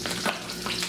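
Steady close-up sizzling of sausages frying in a hot pan, a continuous crackling hiss with small bursts of spatter.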